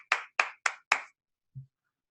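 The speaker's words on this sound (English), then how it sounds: "Big round of applause." Applause at an inspirational speaking event comes as four crisp, close claps in quick even succession, followed after a pause by a single soft, low tone.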